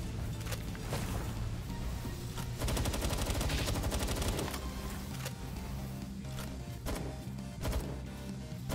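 Sustained gunfire in the video game Palworld, with rapid automatic bursts and scattered single shots mixed with game noise for several seconds, loud and continuous.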